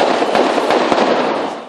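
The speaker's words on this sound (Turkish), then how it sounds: "Silah sesleri zaman zaman şiddetlendi." Gunfire during an armed clash between police and suspects holding a house, heard as a dense, loud, continuous crackle with several sharper bursts standing out across the whole stretch.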